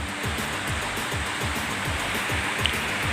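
Steady rain falls outside in a dense, even hiss that stays constant and fairly loud throughout, with no pauses or voices.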